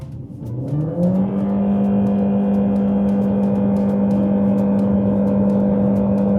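A Chery Tiggo Cross Hybrid SUV launches at full throttle from standstill, its engine droning up steadily into a loud, sustained hum that holds constant pitch as the car keeps accelerating, close and continuous with no talk.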